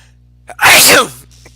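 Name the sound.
sneeze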